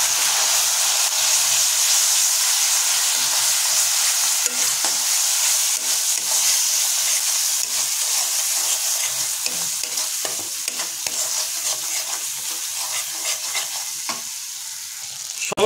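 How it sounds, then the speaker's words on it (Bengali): Ground spices, including cumin powder, sauté in a kadai on low flame for pointed gourd with prawns, giving a steady, loud sizzling hiss broken by frequent scraping stirs of a spoon. "এটাকে আমরা 2 মিনিট ধরে লো ফ্লেমে আবার কষিয়ে নেব।"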